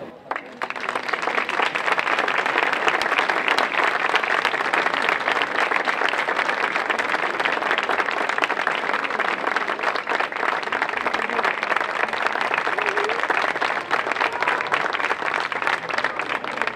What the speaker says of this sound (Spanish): recibamos con un fuerte aplauso a su director